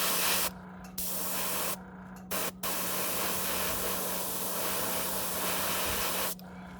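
An airbrush with a 0.2 needle sprays thin paint for a smallmouth rose fishing-lure pattern, giving a steady close hiss in several bursts separated by short pauses.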